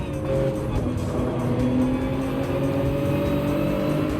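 Continuous engine drone of racing cars in the video game Gran Turismo 7, with whining tones and road noise, steady and loud, no talking.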